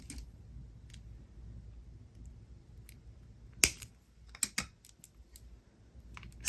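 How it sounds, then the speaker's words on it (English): Wire cutters snip through beading wire during necklace and earring making, giving a sharp close click followed by a few softer ticks against a quiet background. "And now I'm going to trim off that wire."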